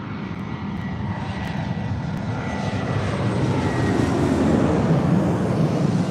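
Jet engines of a Delta Airbus A319 airliner at LAX, a steady broadband roar that swells gradually louder over about six seconds, heard alone.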